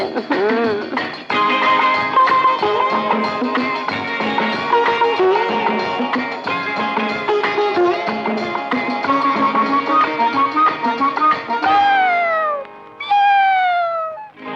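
Cat meows woven into a Telugu film song with full orchestral backing; near the end come a few drawn-out, falling meow-like cries that stand out as the music thins.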